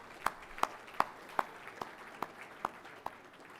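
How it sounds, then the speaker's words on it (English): Sparse, spaced handclaps at a Carlton football club premiership reunion luncheon, about eight distinct claps in a slow, uneven rhythm, fairly quiet and a little distant, with no voices. "round of applause. Thank you."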